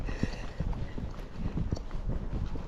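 A Tennessee Walking Horse mare moving quickly along a trail, her hoofbeats thudding in a fast, uneven clip-clop close by, with wind noise over the microphone.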